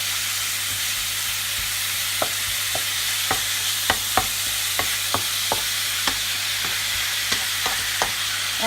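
Pork pieces fry in a pan for caramel pork, giving a steady, loud broadband sizzle with scattered sharp crackles and pops throughout.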